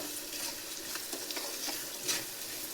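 A tempering for puliyogare sizzles and fries in oil while being stirred, a soft continuous crackle with scraping strokes, fairly quiet and close, no talk.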